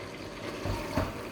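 Water is poured into a clay pot of prawn curry made without coconut milk, a short, soft splashing gush close by, with no voices.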